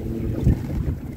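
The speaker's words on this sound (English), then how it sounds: "But the engine's performing really well." A motor boat engine running on the River Thames on its first trip, a close low rumbling drone mixed with wind buffeting the microphone and the wash of water, continuous and fairly loud.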